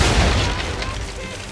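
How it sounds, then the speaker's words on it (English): Ship cannons fire a broadside during a naval battle in Assassin's Creed 3, a loud, rolling burst of heavy booms that fills the moment and slowly fades, with a voice talking underneath. "aim all guns at her bow and do as much damage as possible. Ready! Fire broadside!"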